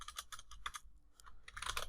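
Fingers type a welcome post on a computer keyboard in quick, close clicking bursts, with a brief pause midway before the keystrokes resume rapidly.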